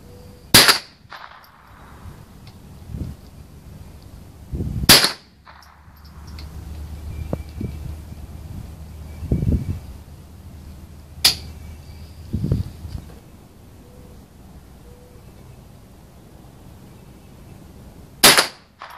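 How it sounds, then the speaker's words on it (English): Remington 597 .22 LR rifle shots fired outdoors at a target, four sharp loud cracks spaced several seconds apart, with quieter handling noise and faint background sounds in between. "I shot right through the center, didn't break it though."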